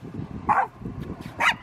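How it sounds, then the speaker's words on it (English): Small dogs bark loudly in two sharp, close yaps, one after the other, over a low background murmur with no clear talk. "People love dogs, especially barky loud ones."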